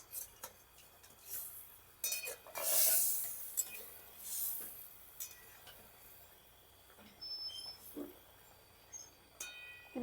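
Fried rohu fish pieces go into a pan of oil for a mustard-oil jhal curry, with intermittent metal clinks and scrapes of a utensil stirring against the pan, moderately close, and a soft sizzle underneath; no talking.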